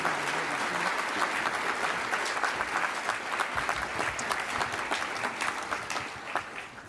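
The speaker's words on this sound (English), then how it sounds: "Please give him a round of applause." Audience applause at a formal gathering, a full, steady burst of many hands clapping, close and continuous, tapering slightly near the end.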